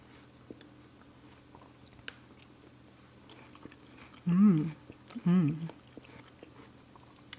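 Someone chews a mouthful of German beet salad with peas, giving two loud, close bursts of wet, slightly crunchy mastication over quiet room tone.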